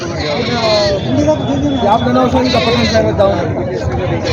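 Goats bleat repeatedly at the Saturday village goat market in Purna, Parbhani district, their calls close and overlapping amid constant crowd talk and chatter.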